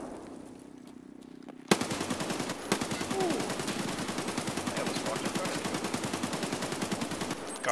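Video game gunfire rattles in a fast automatic burst after a short lull, loud and close, with a few separate shots before the stream of rapid fire.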